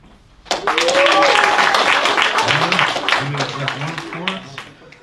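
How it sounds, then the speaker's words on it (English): An audience at a stand-up comedy show applauds and cheers, a sudden dense burst of clapping that rises quickly and slowly fades, with a voice speaking over it in the latter part. "Can we get a round of applause from everyone over 40?"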